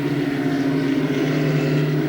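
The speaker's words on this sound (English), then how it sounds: "There's Franchitti's new helicopter" Helicopter flying over a racetrack during an Indy 300 race, a steady droning rotor and engine hum with a constant low tone, fairly close and unbroken throughout.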